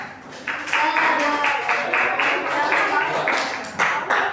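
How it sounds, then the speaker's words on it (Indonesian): Group hand clapping in a classroom activity, a brief burst of rhythmic claps mixed under a person talking encouragingly over it. "Ya, bagus. Bagus. Ya. Ya. Bagus, tepuk tangan."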